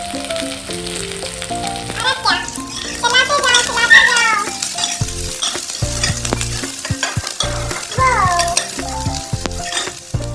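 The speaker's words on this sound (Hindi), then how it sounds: "तो ये हमने डाला तड़के का आइटम, अब जाएगा इसमें लहसुन मिर्च।" Garlic and green chilli crackle and sizzle as they hit hot tempering oil in a kadhai, with stirring and occasional clatter over a steady frying hiss and background music.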